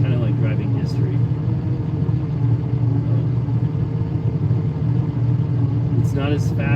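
A Lamborghini Countach engine drones low and steady while driving, a loud continuous rumble with a voice talking intermittently over it.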